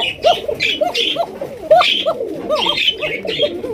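Pigeons, both male and female, coo in repeated soft, throaty phrases close by at a pigeon farm, several calls overlapping in a rolling rhythm, with faint higher chirps behind.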